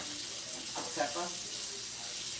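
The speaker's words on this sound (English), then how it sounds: "I wash my hands 42 times a day." Tap water runs steadily into a kitchen sink as hands are washed during cooking, a continuous moderate hiss with a voice briefly talking over it.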